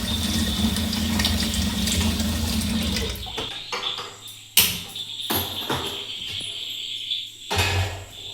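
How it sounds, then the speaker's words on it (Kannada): Water streams steadily into an idli steamer pot for a few seconds, then stops, followed by several loud metallic clanks and knocks of the vessel close by. "ಈಗ ಇಡ್ಲಿ ಬೇಯಿಸುವ ಪಾತ್ರೆಯಲ್ಲಿ ಸ್ವಲ್ಪ ನೀರು ಹಾಕಿ ಬಿಸಿ ಆಗಲಿಕ್ಕೆ ಬಿಡಬೇಕು."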